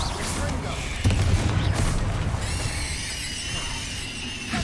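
Incendio fire spell cast in the game Hogwarts Legacy, a deep whooshing boom with crackling flame and a bright shimmering tail, loud and sustained under game music and effects.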